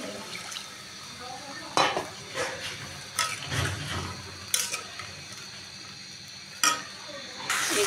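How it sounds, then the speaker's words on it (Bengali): Hilsa fish and spices frying and being stirred in a pan, a steady low sizzle broken by several sharp scraping strokes of a spoon against the pan, heard close with no talking. "মাছের সঙ্গে মশলাগুলো আর একটু সুন্দর করে কষাই নেব"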